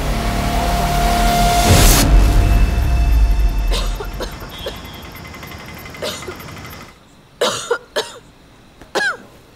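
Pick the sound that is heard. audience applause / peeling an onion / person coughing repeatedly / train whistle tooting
person coughing repeatedly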